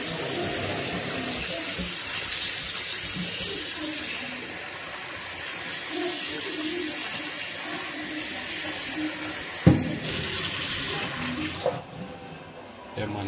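Tap water running and splashing into a pot holding salted fish, poured in a kitchen for a second boiling, a steady gush across the whole clip with voices talking over it.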